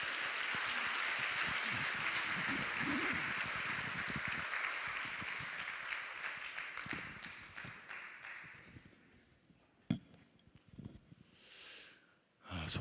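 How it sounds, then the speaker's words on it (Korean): A church congregation at a Baptist pastors' couples conference claps to welcome a preacher to the pulpit, broad steady applause for several seconds that thins out and trails off into scattered sounds and near-silence. "큰 박수로 맞아 주시기 바랍니다."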